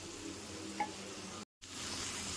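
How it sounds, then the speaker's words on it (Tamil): Ivy gourd sautéing in a pan with turmeric and chili powder gives a steady, soft sizzle with light stirring, briefly cut to silence midway before the frying resumes. "ஒரு ரெண்டு நிமிஷம் நல்லா வதக்கணும்"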